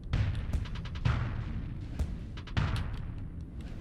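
A flak cannon in the space combat game Starsector fires in quick repeated bursts, sharp booming thuds spaced irregularly with a clattering tail, fairly loud and without talk.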